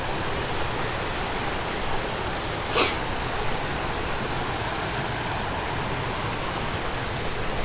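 High, fast-flowing river rushing past a camping spot, a steady broadband roar filling the scene evenly from start to finish with one brief sharper burst partway through.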